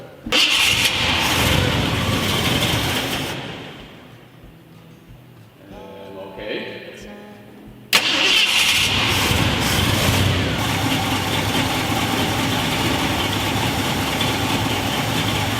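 A Ford F250 truck engine cranks after distributor work, goes quiet for a few seconds, and then catches with a sharp start. It settles into a loud, steady rough idle close by.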